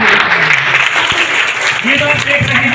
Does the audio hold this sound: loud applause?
yes